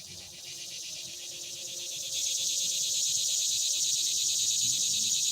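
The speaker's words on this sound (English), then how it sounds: "Hear the cicada." Cicadas singing in a tree about 25 feet away at sunset, a dense, steady high-pitched buzzing drone that swells slightly louder partway through and holds constant.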